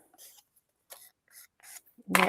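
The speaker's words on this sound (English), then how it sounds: "I have got a sanding block here, and just run it through" A sanding block rasps across an inked craft card in short, quiet scraping strokes, about four soft rubs spaced apart before a louder, brief burst at the end.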